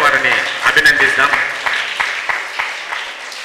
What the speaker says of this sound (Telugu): ఒక్కసారి జిల్లా టైక్వాండో సంఘం తరపున చప్పట్లతో వారిని అభినందిస్తాం